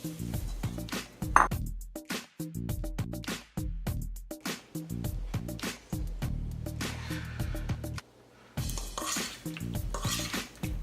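Ingredients for vegan tuna poke tumbling and being tossed in a bowl, with repeated clinks and scrapes of a utensil against the dish and a steady mixing rhythm, close and fairly loud.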